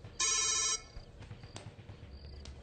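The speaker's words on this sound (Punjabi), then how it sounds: "ਗੀਤ ਦਾ ਫੋਨ ਹੈ" A mobile phone rings once with a short bright electronic ringtone burst near the start, then falls to quiet room noise with faint beeps and no talk.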